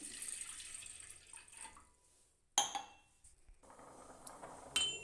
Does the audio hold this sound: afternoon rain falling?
no